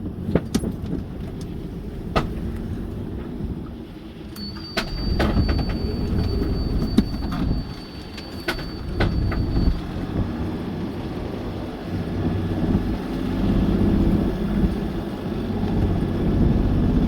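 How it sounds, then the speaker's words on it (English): A sailboat's engine runs steadily on a choppy passage between Arbroath and Tayport, a continuous low droning rumble with sharp knocks and clatters over it, moderately loud and close, with no talking. "I'm going to cheat and turn the engine on."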